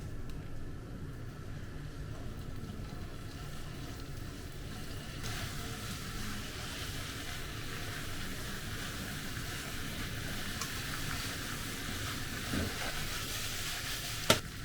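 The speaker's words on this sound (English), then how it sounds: "add the noodles into vegetables, and I'm gonna just mix well" Yakisoba noodles sizzling as they are stir-fried with vegetables in a hot pan, a steady continuous frying hiss with occasional soft stirring scrapes, heard alone without talk.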